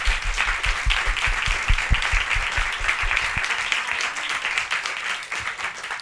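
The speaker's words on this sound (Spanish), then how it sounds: "Un aplauso a Gaby" A live audience at a poetry conversation event applauds steadily for several seconds, a dense even wash of many hands clapping with heavy low thumps early that softens toward the end.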